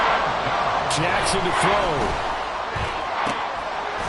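Dense roar of a football stadium crowd fills the whole stretch, loud and steady, with a commentator talking over it throughout.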